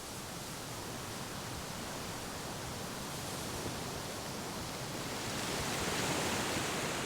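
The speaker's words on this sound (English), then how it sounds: "One sound is typical of Ticino, the gushing of waterfalls." A gushing waterfall in Ticino, Switzerland, a dense, continuous roar of rushing water with no pauses, steady and fairly close, swelling slightly toward the end.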